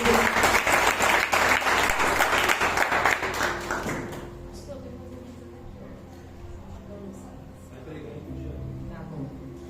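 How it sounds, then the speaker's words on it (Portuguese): A church congregation applauds during a worship service, loud, steady clapping for about four seconds that then fades away, leaving a quieter room with voices and background sound. "Você pode esvaziar as mãos, aplaudir o nosso Deus."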